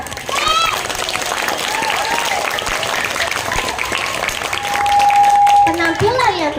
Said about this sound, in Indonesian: Beri tepuk tangan yang meriah untuk penampilan kelas 4.